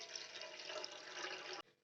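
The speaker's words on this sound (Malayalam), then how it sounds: "അതിലേക്ക് നമുക്ക് ആവശ്യത്തിന് വെള്ളം ആദ്യം ചേർത്ത് കൊടുക്കാം" Water pours steadily into a cooking pot for milk-free masala tea, a continuous close splashing rush that stops abruptly near the end.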